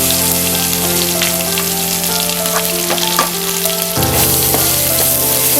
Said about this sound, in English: Now add ginger garlic paste.